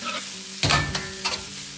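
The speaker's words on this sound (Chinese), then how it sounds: "最后开大火快速的翻炒几下，化开调料，炒出锅气，炒出香味" King oyster mushrooms and garlic sprouts are stir-fried over high heat in a wok with soy sauce and oyster sauce, with a steady sizzle broken by two or three quick scraping tosses of the spatula, close and alone.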